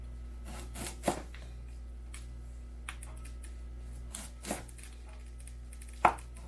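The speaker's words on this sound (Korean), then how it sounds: "더덕도 이렇게 그냥 썰 거예요" Deodeok root being sliced on a cutting board, a few sparse, sharp knife taps separated by pauses over a faint steady hum, no talk.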